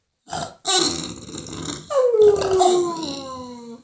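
A bulldog gives a short vocal bark-like grunt, then a longer drawn-out whining howl that slides downward in pitch, close and fairly loud, with a brief gap between the two sounds.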